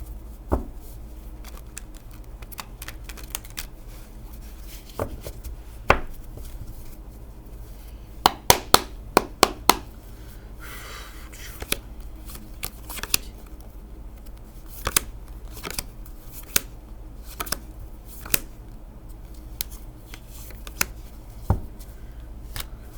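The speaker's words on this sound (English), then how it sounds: "Okay, let me do a quick shuffles." Tarot cards are shuffled in a quiet room with a low hum underneath, making scattered crisp snaps and flicks of the deck. A tight cluster of slaps falls near the middle, and sparser taps follow.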